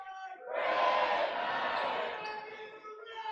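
Crowd noise building in a high school boys basketball gym moments before tip-off, a loud sustained roar and cheering from fans behind the bench, swelling quickly then easing slightly.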